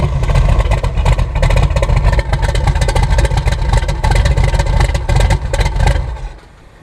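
Twin turbo 440 rat rod engine cranked by a new mini starter fires and runs with a loud, close, lumpy rumble, then cuts off abruptly near the end.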